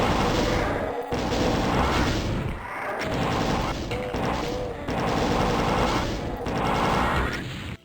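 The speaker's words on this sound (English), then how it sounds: "I like to just lead with the plasma rifle and see how I do" A plasma rifle fires continuously at revenants in Doom 2, rapid dense bursts with crashing impacts in loud sustained volleys broken by short pauses.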